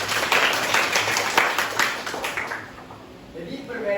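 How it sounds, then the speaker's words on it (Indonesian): A class of students claps for a classmate who asked a question, a burst of applause that fades out after a couple of seconds. "Tepuk tangan buat yang bertanya."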